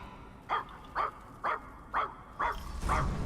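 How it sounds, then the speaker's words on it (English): A robot dog in the game Puppeteer barks six times at an even half-second rhythm, sharp synthetic barks up close, the last ones over a swelling rumble. "Go, Robo Dog."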